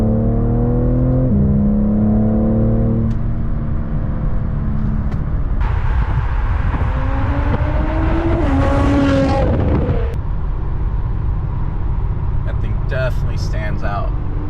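A BMW M3 50 Jahre Edition pulls in quick bursts, its engine note rising through short revs and gear changes, loud and close, with a voice talking over parts of it.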